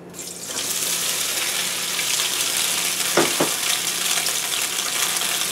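Tofu added to nearly smoking oil in a pan, loud steady close sizzle and hiss with a couple of brief clatters partway through.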